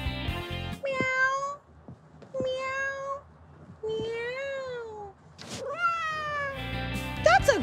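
A person imitates a cat, giving several drawn-out, sliding meows in a row with short pauses between them, loud and close.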